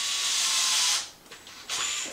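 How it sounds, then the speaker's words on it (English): A drill bores into the upper suspension arm of an Traxxas X-Maxx RC car, a loud high whine for about a second, then brief quieter grinding and a second short burst near the end. "now we just have to drill the upper arm on the backside to accept the head of this screw"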